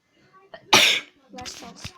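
One sharp, loud sneeze bursts out after a short indoor breath, followed by a few seconds of quiet talking voices.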